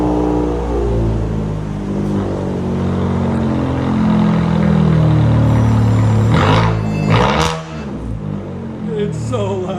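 A 2017 Fiat 500 with a straight-pipe exhaust revs loudly at close range, its engine note climbing and holding before a few sharp blips near the end, with voices partly audible underneath.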